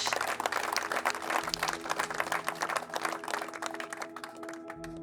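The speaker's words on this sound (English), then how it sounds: "can we get a round of applause for our young people?" A ceremony audience marking the final chapter of the Lower Post Residential School breaks into steady applause for its young people, dense rapid clapping from many hands that carries on throughout, with a low hum beneath.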